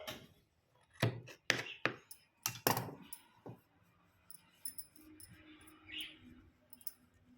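Excess fabric being cut off a blouse during alteration: a few sharp, close snips and clicks in quick succession, then quieter handling noises and faint rustling.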